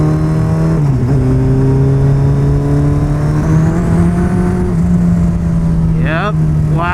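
A turbocharged 300HP Suzuki Hayabusa motorcycle accelerates steadily on the approach to a highway, its loud, sustained engine note holding a low drone with a rising whine, and a brief louder rev burst near the end.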